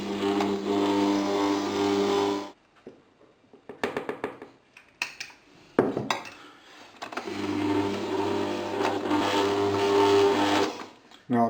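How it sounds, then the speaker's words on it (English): A stand mixer kneads bread dough, its motor humming loudly with a steady tone, stopping for a few seconds of handling noises and clatter, then running again close by. "after a couple of minutes of kneading the dough comes together by itself and forms a bowl in the mixer"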